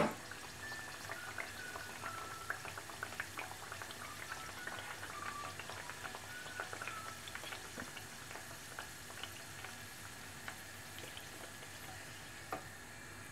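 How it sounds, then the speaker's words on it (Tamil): Masala kachori fry in hot oil, giving a faint, even crackling sizzle with scattered small pops that continue steadily throughout. "எண்ணெய் நல்லா காஞ்ச உடனே இது 1/1 போட்டு எடுத்துடலாம்."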